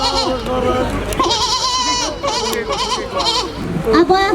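A person imitates a goat's bleat with a wavering, nasal voice in several repeated calls over about four seconds, loud and close, with no other sounds around it.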